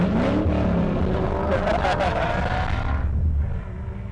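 BMW M3 engine exhaust roaring loudly and steadily in a continuous rumble, fading somewhat near the end.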